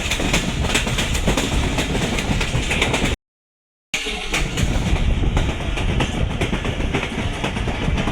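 The 13 Up Awam Express, old coaches rolling near Rawalpindi, rumbles along the rails with a steady, loud clatter of wheels over joints. The sound is briefly cut out partway through, then resumes.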